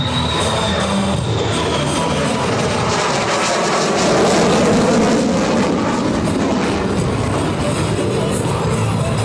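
An F-35A Lightning II fighter jet roars steadily overhead at an airshow, a broad continuous engine rumble that swells slightly midway, loud and unbroken, with no voices.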